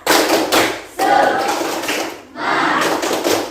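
A class claps together in a short rhythmic chant-clap, three quick rounds separated by brief pauses, loud and close.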